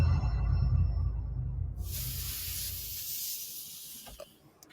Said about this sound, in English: That little crackling sound you hear when you vape